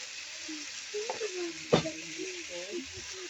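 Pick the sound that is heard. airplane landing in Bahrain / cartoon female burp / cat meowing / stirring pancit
stirring pancit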